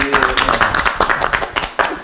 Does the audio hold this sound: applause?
yes